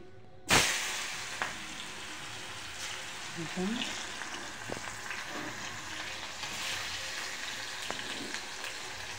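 Food hits hot oil with a sharp sizzle, then a steady crackling fry continues, broken by occasional clinks of stirring.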